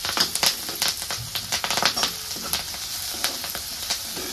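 Onion, curry leaves, garlic, ginger and green chili fry in hot oil, a close, steady sizzle with crackling pops and occasional stirring scrapes.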